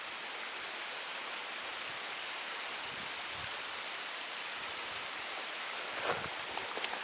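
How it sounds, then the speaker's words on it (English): Steady rain arrives at a canoe-trip campsite in Algonquin Provincial Park, a soft, constant hiss of drops with a few closer patters and taps toward the end, no voices heard. "here comes the rain"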